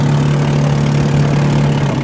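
A running boat engine, either a 20 hp high-speed unit or an 18 hp low-speed Yamaha, holds a loud, close, steady drone with a strong low hum throughout, no speech.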